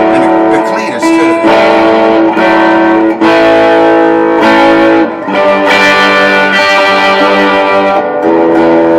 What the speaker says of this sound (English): That's got quite a bit of distortion on it.